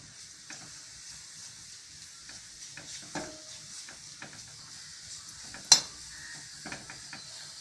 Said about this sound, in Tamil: இந்த புளியை வந்து இப்படி வறுத்து எடுத்துக்கணும்.